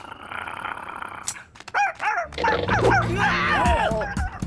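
A dog growls and snarls, rising into an agitated, rumbling stretch with whimpering yelps, close and fairly loud after a brief quieter start.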